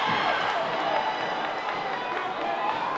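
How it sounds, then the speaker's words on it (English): Dense crowd roar with steady rumbling banging on bleachers at a high school relay race, a four-way battle for the lead, continuous and loud throughout. "The crowd's banging on the bleachers as we've got a four-way battle"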